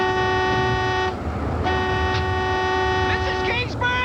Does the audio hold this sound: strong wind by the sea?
no